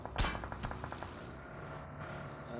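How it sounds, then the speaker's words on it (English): Explosions and gunfire in BGMI during the BGIS 2023 esports finals: a sharp, loud blast opens, another follows, then a quick run of rapid shots fades under a steady ambient game background. "Explosions everywhere"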